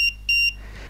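Low-battery alarm on an Arduino Nano SPWM generator: two sharp, high electronic beeps, a short one then a longer one, close and clear over a low hum.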